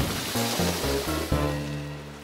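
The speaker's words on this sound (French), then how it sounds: "les vagues sont super aujourd'hui" Large, abnormally big ocean waves in a Morphle cartoon: a broad rushing wash of surf beneath a bouncy musical score whose notes step up and down.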